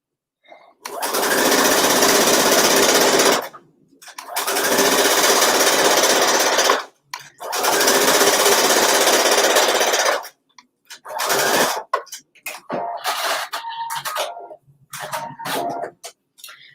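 A sewing machine stitching an elastic waistband, running in three long loud bursts of rapid motor whir, then several shorter stop-start runs.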